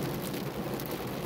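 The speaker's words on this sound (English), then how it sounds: "I'm sure the rain will stop very soon." Steady rain patters on a surface, a dense, even wash of noise filling the short stretch with no talk over it.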